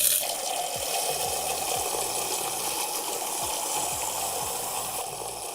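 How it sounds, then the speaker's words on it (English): Tap water pouring steadily into a beaker, a continuous close splashing rush with a faint low gurgle underneath, heard alone without voices. "That was just tap water."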